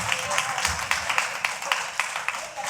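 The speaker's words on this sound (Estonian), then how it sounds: "võtame ta suure aplausiga vastu" An audience at a village children's reunion gathering in Nasva claps steadily, a dense patter of hand claps at moderate loudness with no break.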